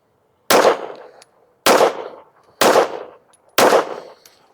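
Four loud Taurus G3 pistol shots fired at targets outdoors, each a sharp crack with a short decaying tail, evenly spaced about a second apart with no talking.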